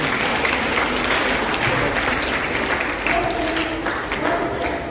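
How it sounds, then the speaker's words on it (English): An audience at a school maths club celebration breaks into steady, dense applause, many hands clapping together at an even level for several seconds, with faint voices underneath. "Clap your hands."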